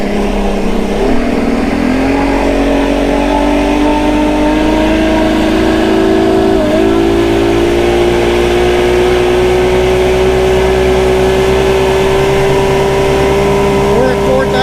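A 1988 Evinrude 200hp outboard on a Stratos fish and ski boat holds a steady roar near 4,000 RPM, its pitch creeping slowly upward over about fifteen seconds, loud and continuous, with a voice speaking over it.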